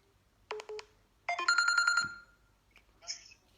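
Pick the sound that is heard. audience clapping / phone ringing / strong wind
phone ringing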